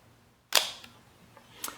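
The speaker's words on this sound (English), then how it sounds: "the Canon P, which is another rangefinder, and you'll hear the shutter." A single crisp shutter click from a Canon P rangefinder camera close by, followed by a fainter mechanical tick a moment later in a quiet room.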